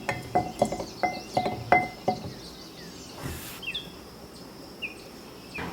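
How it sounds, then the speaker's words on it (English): A spoon stirs sappan wood pigment in a glass, giving a quick series of light, rhythmic clinks up close, then softer scattered taps with faint background chirps. "Just try to stir it."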